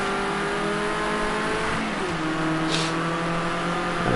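Ford Escort RS 1600 race cars on a circuit at Oulton Park, steady droning engines with gear changes heading into a chicane, loud and continuous with faint commentary underneath.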